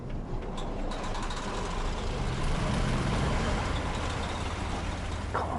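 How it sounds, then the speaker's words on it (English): A heavy truck engine in SnowRunner cranks and settles into a loud, steady diesel rumble that holds through the whole stretch, with a brief higher tone near the end. "I just want to hear this truck start up a second."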